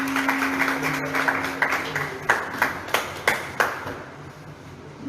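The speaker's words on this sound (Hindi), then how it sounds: "जोरदार तालियां।" A ceremony audience at a talent award event in Dadri claps for the arriving chief guest, scattered handclaps first and then several sharp, louder claps, fairly close, with a faint tone lingering underneath early on.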